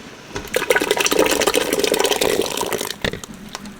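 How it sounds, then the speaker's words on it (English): Salsa verde pouring into a pot of chicken pozole with hominy, a steady close liquid glug and splash lasting about two and a half seconds before stopping abruptly. "And then all of that salsa we just made."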